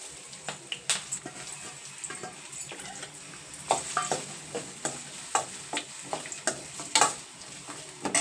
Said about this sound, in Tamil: இப்போ நம்ம பொடியாக நறுக்கின வெங்காயத்தை இதில் சேர்க்க போகிறோங்க